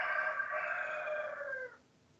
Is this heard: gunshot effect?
no